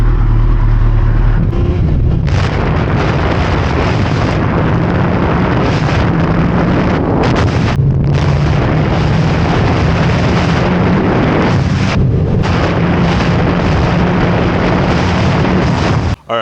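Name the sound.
Kawasaki Ninja ZX14R motorcycle engine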